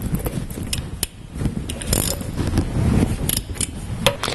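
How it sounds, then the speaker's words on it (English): Wheel nuts on a Range Rover L322 are slackened off with a wrench, giving a close series of sharp mechanical clicks and ratcheting rattles over a busy workshop background. "Before we send it up on the ramp and jack it up, we're just going to slacken off the wheels"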